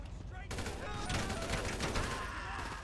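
Rapid AK rifle gunfire in the GTA V video game, a dense sustained burst of shots starting after a brief pause and continuing to the end, fairly loud and close.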